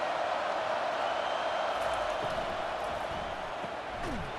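A stadium crowd in an American college football video game roars in a steady, dense wash of noise at moderate level, a distant sustained rumble with no distinct voices standing out.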